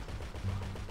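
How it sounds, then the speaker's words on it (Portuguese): Gunfire in the video game GTA V, including explosive rounds, comes as a dense, steady low rumble of shots with a heavier burst midway through the short stretch. "Tá rolando mais tiro aqui, velho."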